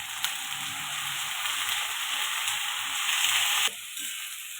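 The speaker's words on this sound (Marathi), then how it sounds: "बघा आपला कांदा छान भाजा लागलाय." Onion frying in oil with chili and garlic, a steady close sizzle that runs without pause, then drops abruptly to a softer level near the end.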